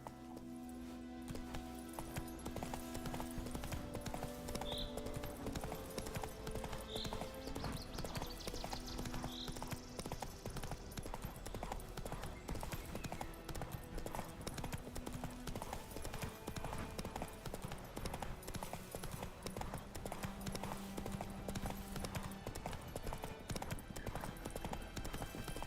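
Roach, the horse from The Witcher 3, gallops in a fast, continuous run of hoofbeats, dense and steady throughout, with occasional faint tonal game sounds over the top.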